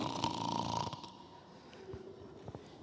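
A person imitates snoring with a low, raspy snore in the first second, then quieter breathy snorts and short clicks fade out, heard close up during a Sunday church service sermon about men snoring when they sleep in the wrong position.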